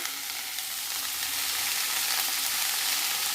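Ivy gourd sizzling in a hot pan for a Kerala thoran, a dense, even frying hiss that continues steadily with no voices.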